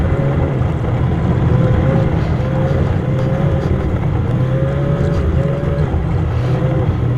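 A Ski-Doo 850 snowmobile engine on a 2023 model drones at high revs in a loud, continuous, close roar, with rising and falling tonal whine and wind rush over the microphone.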